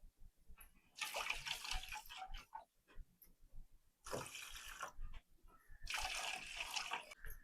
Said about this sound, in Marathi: असं थोडं थोडं पाणी वतून थोडी थोडी भगर राळून घ्यायची